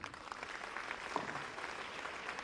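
Conference audience in Freetown, Sierra Leone, applauding a paramount chief: a steady wash of clapping from a crowd, moderately loud and continuous throughout, with no talk over it.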